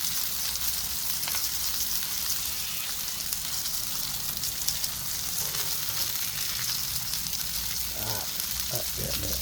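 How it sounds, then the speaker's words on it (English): Continuous crackling sizzle of pork schnitzel frying in hot oil, close and steady, with a few faint knocks and brief murmurs toward the end. "That's what we want, a bit of sizzle."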